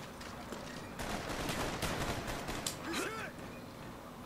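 Gunfire in Call of Duty Black Ops gun game mode, a scattered burst of fairly quiet shots with mechanical clicks and game effects, ending in a sharp loud hit.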